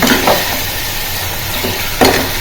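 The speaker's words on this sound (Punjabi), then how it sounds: "ਤੜਕਾ ਹੋ ਰਿਹਾ ਹੈ" A constant hiss of hot oil sizzling as a tempering for lentil dal, broken by a few short stirring knocks near the start and near the end.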